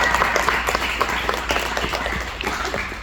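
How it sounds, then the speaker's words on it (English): Audience at a karate school applauding students at a black belt session, steady dense clapping throughout, fairly loud and close with no break. "Give them a big round of applause."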